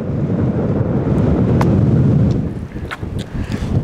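Strong wind batters the microphone outdoors on a disc golf course, a loud continuous low rumbling buffet that eases slightly toward the end.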